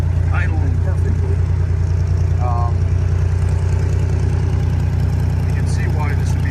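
A 1970 Jeep CJ-5 with a Dauntless V6 engine idles steadily and loudly throughout, with a smooth, even low rumble and a person talking over it.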